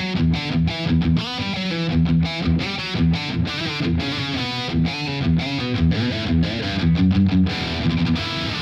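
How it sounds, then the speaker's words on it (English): An electric guitar riff played through a Spark amp with a tight, heavy distorted tone called The Mighty Sabbath: rhythmic, chugging chords and notes, loud and up close with no talking. "It's got a tight, clean distortion, no feedback, and a perfectly balanced EQ."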